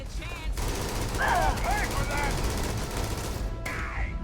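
Rapid gunfire from a gun in the video game Starfield. The shots come as a dense, continuous burst beneath scattered high-pitched game effects, with a brief break before the firing resumes.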